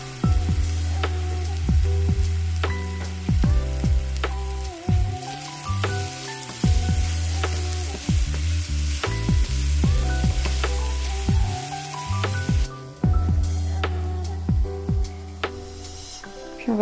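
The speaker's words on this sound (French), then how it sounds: "on va simplement rajouter les morceaux de pommes pour les faire dorer et caraméliser" Apple pieces fry in hot butter and sugar to brown and caramelise, a steady sizzling crackle running under prominent melodic background music, with no talking.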